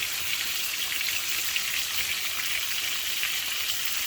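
A chuck roast sears in a hot pan, producing a soft, even crackle and hiss that runs unbroken at a fairly low level from start to finish.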